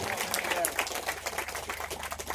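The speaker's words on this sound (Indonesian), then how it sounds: "Tepuk tangan dulu untuk Pak Manajer kita ini" Brief applause from attendees at a Maulid Nabi religious gathering honoring a manager, uneven clapping of moderate loudness with scattered individual claps and some voices underneath.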